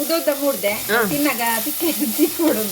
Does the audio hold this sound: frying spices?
yes